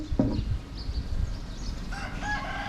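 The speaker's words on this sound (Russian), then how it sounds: "У нас тут на деревне петухи поют." Roosters crowing in a Cambodian village: an outdoor call near the start, then a clearer, fairly faint crow toward the end over a quiet background hum.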